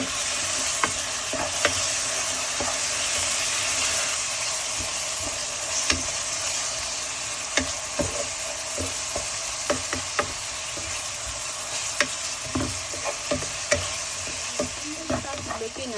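Mild curry powder and spices stirred in a frying pan: a steady, loud sizzle with a spoon scraping and tapping the pan at irregular intervals throughout.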